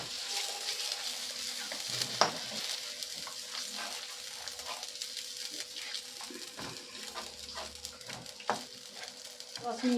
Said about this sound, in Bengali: জলটা দিয়ে ভালো করে ফুটিয়ে নেব মিনিট 10-এর মতো।